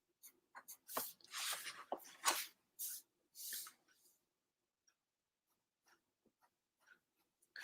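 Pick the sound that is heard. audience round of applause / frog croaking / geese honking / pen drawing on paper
pen drawing on paper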